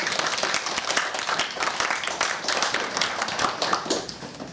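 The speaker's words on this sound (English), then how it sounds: "I think you should give a round of applause for your teacher." A room of students applauds their teacher during a lesson: dense, steady clapping from many hands with scattered sharp claps, fairly close and lively, holding throughout with no talk over it.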